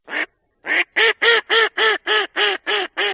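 A duck in a video game server quacks ten times in quick succession, loud and close, with a short gap after the first quack and then a steady, evenly spaced series.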